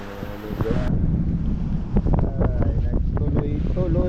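Heavy wind buffeting the microphone with a steady rushing roar, boat engine and water noise beneath, a few knocks and clatters.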